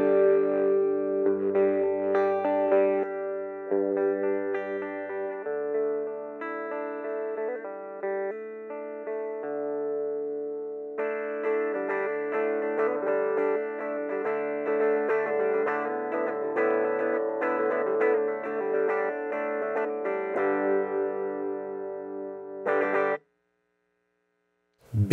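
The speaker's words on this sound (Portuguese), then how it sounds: "Agora minha guitarra está plugada aqui." Electric guitar played through a Marshall MS2 mini amp on its clean channel, sustained chords and picked notes ringing steadily at low volume for about 23 seconds before stopping abruptly.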